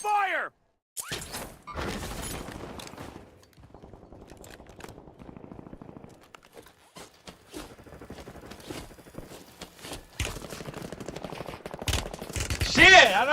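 Bursts of video game gunfire, rapid automatic shots and scattered cracks that come and go, with quieter stretches and talk in between, moderately loud.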